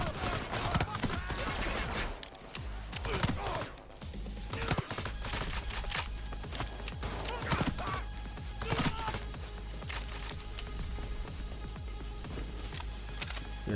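Rapid SMG gunfire in Payday 3, dense bursts of shots with clattering impacts filling the scene loudly and continuously, with brief dips between volleys.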